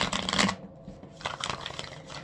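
Crisp riffling of tarot cards being shuffled, a dense burst at the start, a short pause, then further softer shuffling passes, close by.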